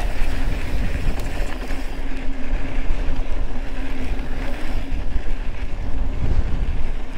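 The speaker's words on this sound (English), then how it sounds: "Hella windy up here." Strong wind on a steep mountain bike trail near Bend, Oregon buffets the microphone continuously, a loud rumbling roar with gusty fluctuations throughout.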